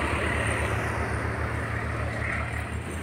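Road traffic moves along a fog-covered highway in Bharatpur district, Rajasthan, a steady rumbling wash of passing engines and tyre noise with a low idling drone underneath, no talk.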